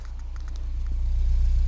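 A 2013 Mini Cooper S Roadster with a 1.6-litre turbo engine idles with a low, steady exhaust burble close to the tailpipe, swelling slightly in loudness, with faint rustling near the start.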